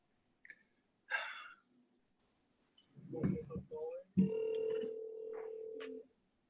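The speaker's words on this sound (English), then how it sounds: "You want to give her a call, Randy?" During a council meeting held by conference call, a telephone tone sounds steadily for nearly two seconds. It comes after scattered short clicks, beeps and breathy noises.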